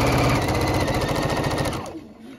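A sewing machine stitches quilt fabric for a beginner's pinwheel sampler quilt, running steadily and loudly for about two seconds before slowing and stopping, with no talk over it.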